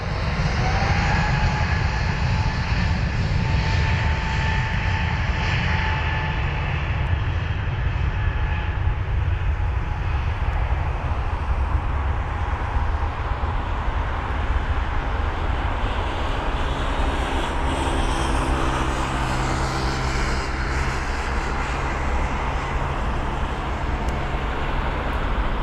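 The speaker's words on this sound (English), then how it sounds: "Now you see the engine roaring now." An Airbus A320neo's jet engines roar loud and close on a takeoff run at London Heathrow, a steady broadband rumble with a whine that slowly shifts in pitch as the aircraft moves away.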